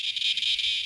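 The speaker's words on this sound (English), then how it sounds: "Cicadas. They're very noisy." Cicadas buzzing in North Carolina, a dense, steady high-pitched drone with slight pulsing swells, loud and continuous through a very short stretch with no talk.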